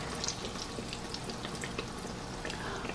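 Biscuits frying in hot oil give off a steady, close crackling sizzle with scattered sharp pops throughout, no voices over it.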